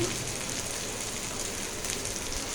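Chopped onion frying in hot oil in a pan for a fish curry, a steady, dense crackling sizzle that runs unbroken and fairly close, with no talking over it.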